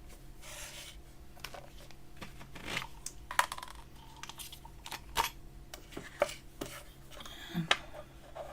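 Polymer clay star shapes are cut out on a work surface, with a steady run of small clicks, taps and presses. The sounds are close and moderately loud, and no one speaks.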